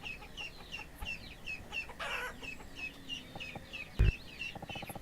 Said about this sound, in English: We need a place to put those chickens